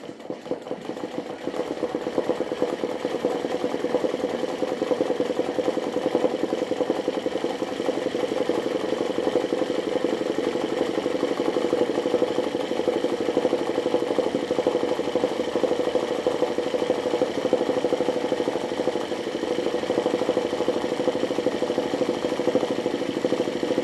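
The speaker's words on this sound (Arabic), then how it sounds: "انا الماكينه باش نعمل لها غير الزقزاق ونخليها تمشي" Embroidery sewing machine running a zigzag stitch, a steady mechanical whir with a fast needle rattle, continuous and fairly loud throughout, with no talking.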